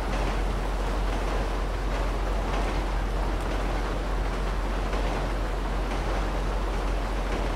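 Steady rain falls in the video game Grand Theft Auto Online, a constant dense hiss of rainfall that holds an even level throughout, with no voices.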